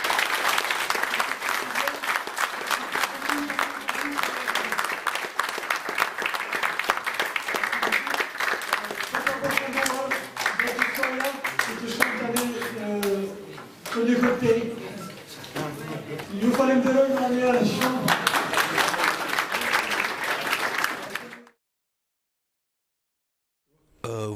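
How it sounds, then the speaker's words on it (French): A lecture audience applauds loudly and continuously for about twenty seconds, the clapping dense and sustained, with a voice speaking over the applause partway through before it stops abruptly. "je voulais que vous applaudissiez très fort M. Gilles Leonardo"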